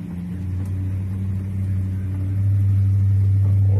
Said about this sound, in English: That's what I promised a ride along in this 55 Chrysler that I started the video on earlier.